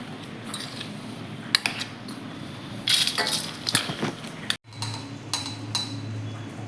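Metal spoon scraping and tapping against a container while transferring ground jaggery and peanut mixture into a bowl, with scattered clinks and knocks at an uneven pace, close by.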